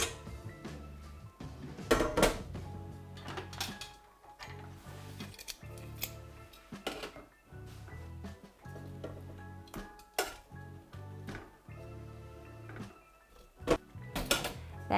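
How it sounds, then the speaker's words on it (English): Meatballs added to sauce in a pan and stirred around, with repeated sharp clinks and scrapes of a utensil against the pan at an uneven rhythm, fairly quiet and close. "Then we're going to mix it all round to make sure all the meatballs are coated in your sauce."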